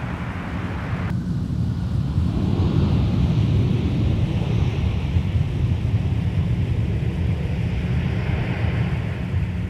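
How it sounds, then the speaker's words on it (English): Low, broad roar of a Northwest Airlines Airbus A320 airliner landing at Minneapolis–Saint Paul airport, heard from outside and steady throughout, with wind buffeting the microphone. "Northwest A320 coming in from Bozeman with a U.S. registration"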